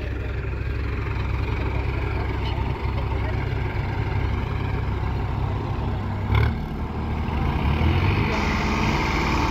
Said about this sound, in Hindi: अभी फिलहाल दोनों ट्रैक्टरों को टेस्टिंग कर रहे हैं।